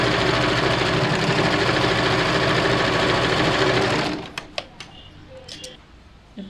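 A sewing machine hums loud and close for about four seconds, running a press stitch along the band of a blouse, then cuts off into light clicks and cloth handling.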